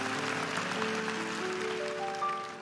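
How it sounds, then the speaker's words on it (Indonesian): Congregation at a Christian church service applauding, a steady wash of clapping from a large crowd with organ or keyboard tones sustained underneath, fairly faint and continuous throughout. "Kasih tepuk tangan untuk Tuhan."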